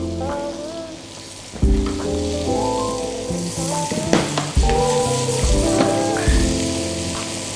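Butternut squash risotto stirred in a hot pan, a loud continuous sizzle under several scraping spoon strokes, with tonal background music running throughout.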